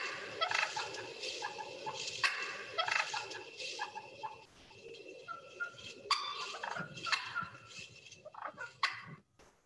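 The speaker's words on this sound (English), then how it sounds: "here's their cluck and their purr." Wild turkey hens nearby give repeated short clucks and soft rolling purrs in irregular bursts, fairly faint, with no talking.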